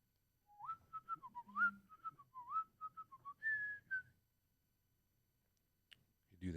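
A person whistles with suction, drawing air inward, in a quick string of short, wavering chirps and slides that rise and fall in pitch. It is faint and close, then silence follows and a small clatter comes at the end.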